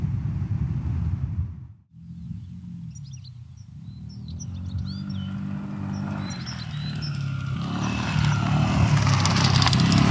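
A SYM ADX 125 scooter rides at speed on a country road near trucks, its engine and road noise droning steadily and close, swelling louder toward the end, with faint bird chirps above.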